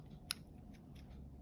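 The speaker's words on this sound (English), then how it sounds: "And you just cut off your excess." Scissors trim excess paper from a handmade Christmas card with one faint, quick snip over a quiet room hum.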